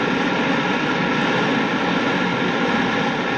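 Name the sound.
spaceship auxiliary retrojets firing, radio drama sound effect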